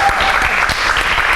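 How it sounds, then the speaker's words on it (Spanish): A theatre audience claps steadily for an honoree at a memorial talk event, with dense, even applause filling the whole short stretch at close range. "Y fuerte también el aplauso para Diceidi Carmona."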